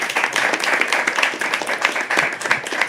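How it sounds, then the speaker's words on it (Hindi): An open-mic poetry audience applauds the poet Noor, dense overlapping claps forming a steady, lively wash that holds at even loudness throughout. "एक बार खूबसूरत सी तालियां नूर के लिए यार"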